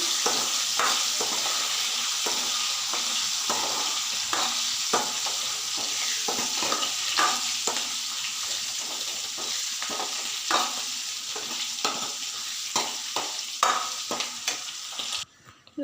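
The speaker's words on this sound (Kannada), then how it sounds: "ಥರ ಚೆನ್ನಾಗಿ ಫ್ರೈ ಮಾಡ್ಕೋಬೇಕು" Mustard seeds, cumin, onion, dried chillies and curry leaves fry in oil for a sambar tempering, a constant close sizzle punctuated by regular scraping strokes of a spoon stirring the pan.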